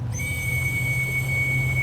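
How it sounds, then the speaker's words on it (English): A long, steady, high plastic whistle tone holds over a low, constant rumble of background noise, sustained without a break. "There was a whistle in answer."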